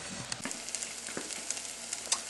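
Onions caramelizing in a hot pan during paleo home cooking give off a steady, close sizzle and crackle, with small pops scattered throughout and no voices.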